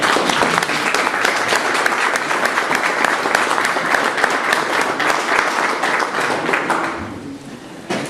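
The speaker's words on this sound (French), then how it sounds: "que vous pouvez applaudir." An audience at a conference in Alsace claps together in loud, sustained applause lasting about seven seconds before tapering off near the end.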